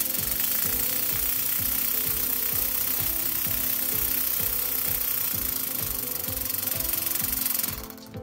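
A homemade air engine running very fast, a rapid regular knocking and chuffing pulse that stays steady and close before cutting off near the end.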